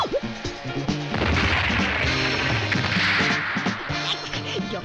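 A cartoon mecha weapon launches from the Yatterman anime, a loud burst of crashing, whacking impacts and whooshes layered over dense music and effects, sustained for several seconds.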